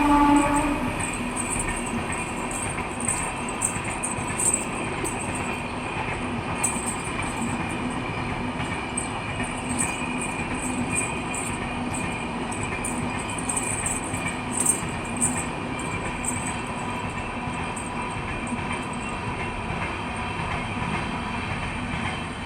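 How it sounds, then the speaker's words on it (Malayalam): A train runs along the railway track beside a home, a continuous rumbling, clattering roll of wheels on rails with high metallic tones above, holding steady and fairly distant throughout, with no talking. "ഞാൻ നിങ്ങളെ ട്രെയിൻ വരുന്ന കാണിച്ചു തരാം."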